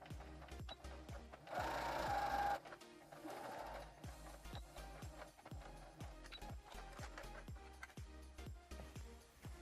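A sewing machine stitching pieces of fabric for a pair of shorts, a steady rapid needle clatter heard close up, with a brief louder whirring burst early on before the even stitching rhythm resumes.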